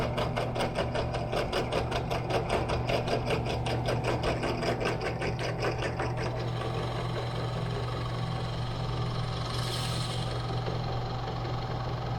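A Forstner bit bores into wood for a Minimax 1100R wooden aircraft build, giving a steady, close mechanical motor hum with a buzzing rattle that eases and smooths about halfway through.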